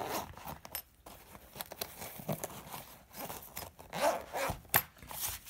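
A double zippered case for a Crate Power Block amplifier is zipped, with repeated short zipping rasps and scraping rubs up close at an uneven rhythm.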